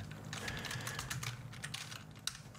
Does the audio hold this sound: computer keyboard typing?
yes